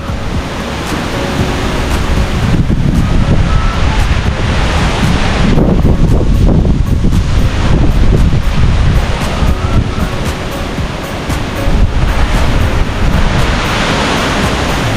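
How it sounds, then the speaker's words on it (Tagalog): Strong typhoon wind roars steadily and loudly into the microphone, buffeting continuously with surf-like rushes for the whole stretch, no voices present. "lumalakas na po ang hangin"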